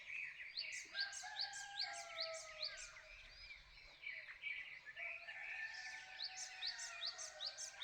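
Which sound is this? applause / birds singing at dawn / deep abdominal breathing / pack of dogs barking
birds singing at dawn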